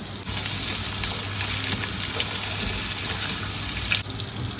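Cinnamon, cardamom and bay leaf fry in butter with a constant close sizzle and crackle, broken by a small clatter near the end, as biryani spices are tempered.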